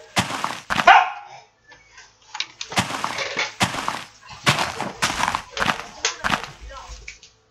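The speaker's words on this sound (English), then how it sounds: "Scout, if you bark, you're in trouble." A dog barks in sharp, irregular bursts, some loud and close, with short pauses between them.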